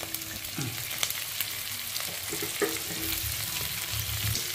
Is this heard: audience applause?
no